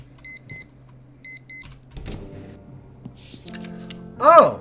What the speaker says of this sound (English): Oh, it's my alarm.